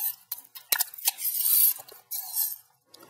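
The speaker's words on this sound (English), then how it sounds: "You'll need to tape them again." Tape is pulled and wrapped around a pack of lithium batteries. Quick crackling rips and sticky tearing come in short bursts with brief taps between them, close and alone.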